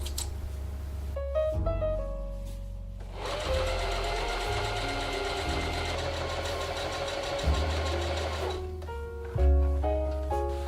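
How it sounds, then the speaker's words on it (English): Sewing machine stitching fursuit collar pieces together, running in bursts of rapid mechanical whirring with brief pauses and restarts, close and loud with no voices. "we just sew it all together"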